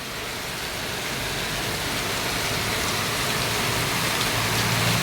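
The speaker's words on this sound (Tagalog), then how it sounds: "Dahil sa ang ulan ay ayan na, malakas, sobrang malakas yan." Dense, steady downpour from Typhoon Carina roaring evenly throughout, a loud continuous hiss of heavy rain with no voices.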